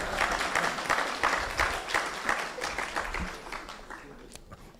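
Audience applause at a youth leadership awards ceremony in Jamaica, a dense crowd of clapping hands that is loud and sustained, then tapers slightly toward the end.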